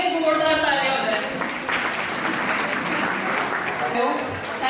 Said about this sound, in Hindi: एक बार आप सभी के लिए जोरदार तालियां हो जाए।